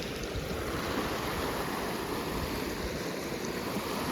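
A rain-swollen village river rushes steadily across a road, producing a continuous loud broadband roar of flowing water, with no talk.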